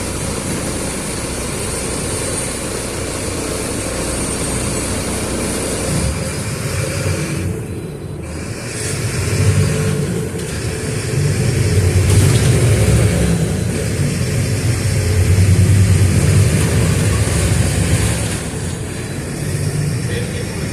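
Marcopolo Torino S bus with a Mercedes-Benz OF-1726 BlueTec 6 engine, a steady low diesel rumble running throughout, swelling louder in the second half as it revs with background traffic.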